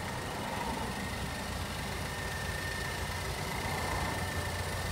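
A 2013 Land Rover LR2 HSE idling out front, a steady low engine rumble with an even hum that stays constant and close throughout, no voices.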